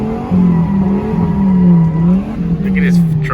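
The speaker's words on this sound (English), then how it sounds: "these guys over here are revving the shit out their car, about to blow that shit up" Revving car engine at a car meet with American muscle cars nearby, a loud steady low drone rising and dipping throughout, with faint higher crackles near the end that could be exhaust pops.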